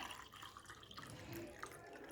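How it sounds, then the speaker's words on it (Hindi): A glass of water is poured into a cooking pot in a home kitchen, a soft, faint continuous splashing gush lasting a couple of seconds with no talking. "तो ये मैंने 1 गिलास पानी डाला और ये दूसरा गिलास।"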